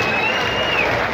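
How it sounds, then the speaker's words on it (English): A stadium crowd on its feet applauding both teams after a New Zealand vs Ireland rugby match, a dense, continuous roar of distant clapping and cheering with a commentator talking over it. "Everybody on their feet, applauding both teams"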